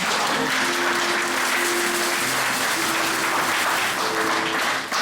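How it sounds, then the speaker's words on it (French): Steady applause fills a church service, many hands clapping densely throughout, with a few faint sustained tones beneath. "Je pense qu'on peut applaudir, c'est très bien."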